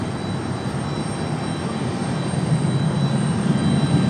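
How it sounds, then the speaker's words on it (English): An Aer Lingus airliner on approach to Raleigh-Durham airport, a steady low engine roar that slowly swells louder as it nears, heard outdoors from the ground with no talking. "Aer Lingus coming up quite close to the airport on the west side here."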